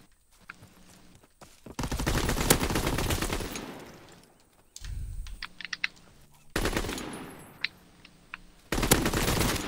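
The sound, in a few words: gunfire from a video game (Call of Duty WW2)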